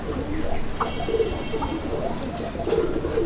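A male domestic pigeon of the Raj-golla breed coos in repeated low, throaty phrases, close by, with faint chirps from other birds around it and no talking.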